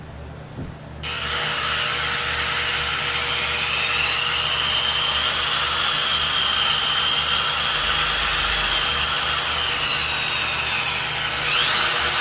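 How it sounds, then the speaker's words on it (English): A power drill starts up and runs steadily at high speed for several seconds, drilling into an earth base for mounting a strutting turkey, a loud, close whine with a slight change near the end. "Gives me an idea where to drill."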